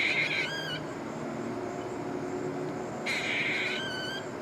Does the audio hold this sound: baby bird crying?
yes